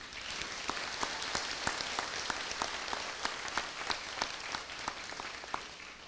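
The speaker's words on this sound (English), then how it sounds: "Let's give them a big round of applause" A graduation audience applauds the graduates' parents with sustained, moderately distant clapping from a large crowd, with a few sharper individual claps standing out above the steady wash.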